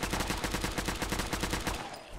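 Railway Rifle firing in Fallout 4, a fast, steady stream of loud, close, evenly spaced shots with a clanking mechanical rhythm that stops abruptly near the end.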